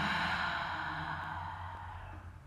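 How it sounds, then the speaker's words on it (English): A long, deep exhale during a yoga breathing exercise, close and soft, fading steadily over a couple of seconds with no talk. "we take 3 big breaths"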